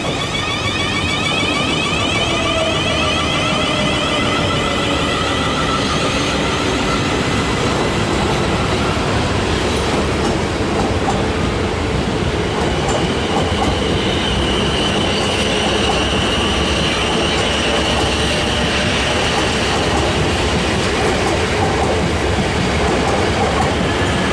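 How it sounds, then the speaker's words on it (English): A South Western Railway train to London Waterloo pulls out of Southampton Central station, its loud, steady rumble of wheels and carriages continuing throughout, with brief wheel squeal and rhythmic clatter along the rails. "Making their way off will be the very delayed 1400 South Western Railway service to London Waterloo"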